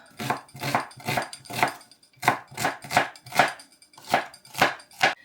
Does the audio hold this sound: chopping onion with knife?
yes